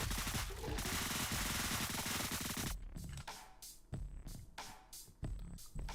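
Submachine gun fire in the video game Deadbolt: a dense stream of rapid shots for a few seconds, then several separate sharp bursts with gaps between them, loud and close.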